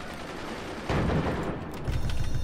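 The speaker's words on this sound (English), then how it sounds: "So this is the heavy mortar" A heavy mortar fires in the video game Forts: a sudden loud boom about a second in, followed by a rumbling tail, then another low thump near the end, all over dense constant battle noise.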